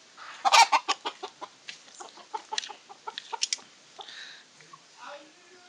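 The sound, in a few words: fighting roosters crowing and clucking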